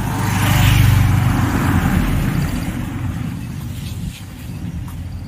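Low, steady rumble of a car engine idling close by, a broad drone that eases slightly toward the end, heard on a roadside in Chinyalisaur, Uttarakhand.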